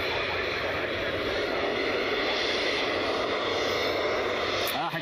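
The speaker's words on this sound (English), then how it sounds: "Got a NetJets business jet heading over here, it looks like" A NetJets Phenom business jet passes overhead near Cleveland Hopkins International, a steady broad roar that holds loud and even throughout, with a slight shift near the end.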